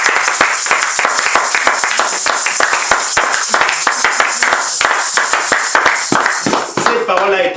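A church congregation claps loudly and steadily after a scripture reading at a deliverance seminar, dense rapid hand claps filling the space, tapering off near the end.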